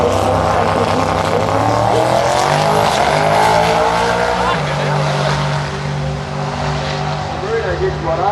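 A drag racing car rolls gently off the start line at Perth Motorplex, its engine a loud, droning roar that rises in pitch, heard under continuous commentary.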